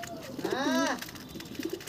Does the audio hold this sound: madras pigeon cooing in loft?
yes